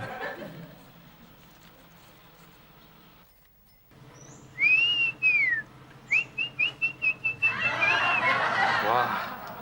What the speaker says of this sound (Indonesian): Suara burungnya bagus.